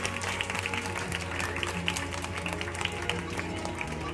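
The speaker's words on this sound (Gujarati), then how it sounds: "બધા જ વ્યક્તિઓ માટે જોરદાર તાળી થઈ જાય" A society gathering's audience applauds for donors, parents and students at a prize distribution program, a steady patter of many hands clapping heard at moderate distance throughout.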